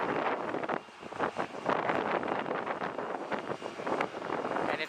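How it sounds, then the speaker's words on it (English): Wind gusts buffet the microphone at a hot planespotting spot by Dallas Love Field, a continuous rumbling roar that rises and dips with each gust. "So the wind is kind of cooling me off."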